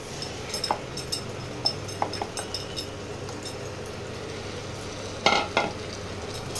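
Boiled banana flower stirred into spice masala frying in a pan, a soft steady sizzle under scattered spoon scrapes and light clinks close by, with a louder pair of scrapes near the end.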